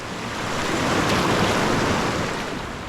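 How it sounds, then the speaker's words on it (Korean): A high-flowing mountain valley stream rushes between rugged, twisted rocks in Korea's Dongmachi valley. It makes a close, loud, continuous roar of water with no voices. "굴곡진 기암 괴석들 사이로 시원하게 흐르는 아름다운 계곡이 눈에 들어왔습니다"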